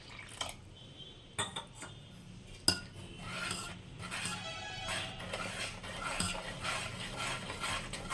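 Millet dosa batter mixed with curd and water being stirred in a bowl, with steady wet scraping and a few sharp spoon clinks against the bowl, close and alone with no talking.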